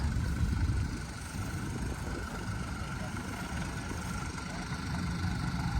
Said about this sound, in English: Then we got a Fortson Dextra. Old blue one.